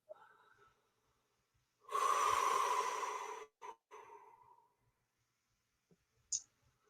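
A breathing exercise: one long, loud exhale lasting about a second and a half, followed by a few shorter breaths and a faint sniff, heard close up in a quiet room.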